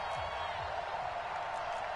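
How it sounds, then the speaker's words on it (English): A stadium crowd in a Madden football video game during a two-point conversion attempt, heard as a steady, fairly quiet roar that holds evenly throughout. "Listen to this crowd now."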